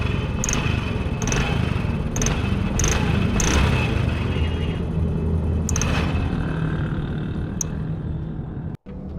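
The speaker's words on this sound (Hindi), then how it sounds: "एक्सीलेटर देते हुए एक सीटी की आवाज़ पैदा हो रही है।" Honda CD 70 motorcycle engine running close by with a steady rumble, a faint high whistle riding over it as the throttle is opened, and a few brief sharp ticks recurring through the clip.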